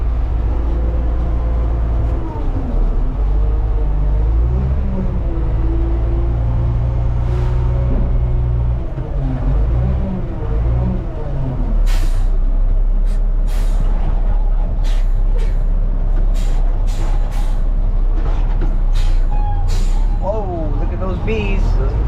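A front-load garbage truck reverses with a heavy engine rumble and sharp bursts of air-brake hiss, close by, while a person talks over the machine noise.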